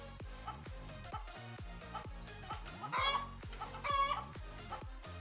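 Chicken in a chicken catapult video game, clucking repeatedly with a couple of louder crow-like squawks over a steady rhythmic thumping backing.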